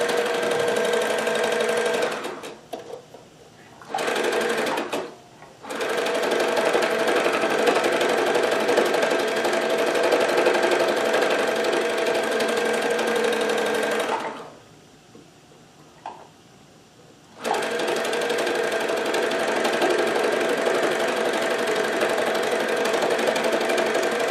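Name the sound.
needle felting machine running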